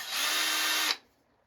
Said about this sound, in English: I think I'm going to hold these 2 together and pre-drill these